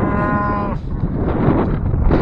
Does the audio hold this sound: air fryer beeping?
no